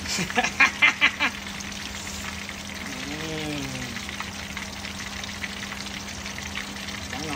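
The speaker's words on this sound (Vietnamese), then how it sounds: "bây giờ chú cá được mình chiên ục bịch ục bịch trên chảo" Fish sizzles steadily in a hot frying pan, a constant crackling hiss throughout, with a few sharp pops early and a brief voice in the middle.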